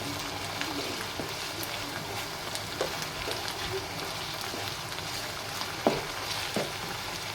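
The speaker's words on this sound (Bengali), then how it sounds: "আমি সবার আগে আলু ভাজতেছি" Potatoes frying in oil in a pan as the first step toward a special noodle dish, a steady low crackling sizzle with scattered pops and light stirring, close but fairly quiet, no talking.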